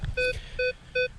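A metal detector sounds over a 10 karat gold heart pendant, giving three short, even, clean tonal beeps in quick succession, close and clear, with no talking.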